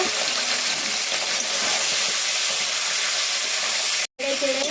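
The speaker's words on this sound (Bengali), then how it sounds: "এই যে তেলটা গরম হয়ে গেছে। এবার চিকেনটাকে আমি কষিয়ে নেব ভালোভাবে," Chicken pieces sautéing in hot oil in a kadai with bay leaves, a steady broadband sizzle and hiss running close and continuous, with a brief cut near the end followed by a faint voice.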